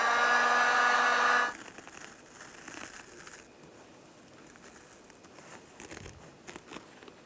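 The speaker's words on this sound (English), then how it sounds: "using a heat gun helps a little bit" A heat gun warming a 2000-2006 Chevrolet Tahoe seat back heater element and foam blows with a loud steady hiss and whine that cuts off after about a second and a half, followed by quiet rustling and crinkling of handled material.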